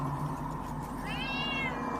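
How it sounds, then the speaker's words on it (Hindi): A single drawn-out cat meow rising and falling over a steady low background hum, clear and moderately close, with no voices. "अचानक उसके कमरे में बिल्ली की आवाज़ें आने लगी।"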